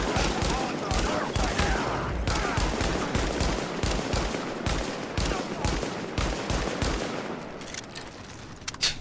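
A magazine emptied in the video game The Division, heard as a long rapid burst of loud, close gunshots firing continuously for several seconds with brief gaps, then thinning out at the end.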